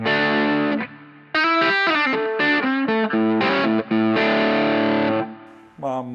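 The opening riff of a song, an overdriven electric guitar blues riff in A, is played loud and up close as short choppy phrases broken by brief gaps.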